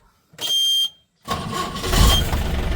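A vehicle gets started on a cold morning: a short beeping chime, a pause, then the engine cranks and catches into a rough, rising mid-pitched run, close and fairly loud.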